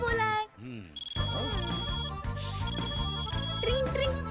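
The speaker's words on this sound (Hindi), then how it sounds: "क्या बकवास रिंगटोन है? तेरे बाप का फोन है, उठा।" A loud, shrill phone ringtone plays a repeating electronic melody, close and insistent, with voices and other sounds mixed around it.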